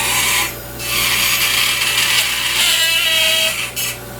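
A dental burr grinds steadily while trimming and polishing complete dentures, a continuous high whirring rasp with a faint steady hum beneath, briefly easing off twice.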